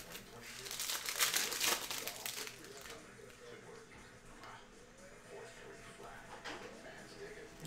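Crinkling and tearing of a 2020 Mosaic Football No Huddle trading card pack being ripped open, a burst of crumpling foil noise near the mic, then quieter handling and rustling with faint speech in the background.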